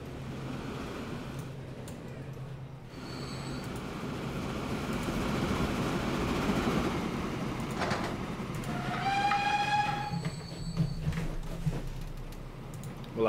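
A train rolls along steadily with a brief horn blast near the end, from the railway game Transport Fever on the Great Western Main Line, a continuous rumble heard alone without talk.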